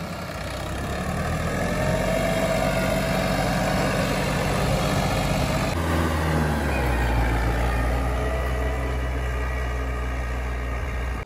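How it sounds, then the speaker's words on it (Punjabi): Home-built tractor running in second gear: a loud, steady diesel engine drone close by, continuous and unbroken, with a slight shift in pitch and tone partway through. "ਦੂਜੇ ਗੇਅਰ ਦੇ ਵਿੱਚ ਚੱਲ ਰਿਹਾ ਟਰੈਕਟਰ"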